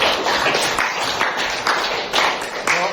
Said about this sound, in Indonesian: tepuk tangan untuk Nita ya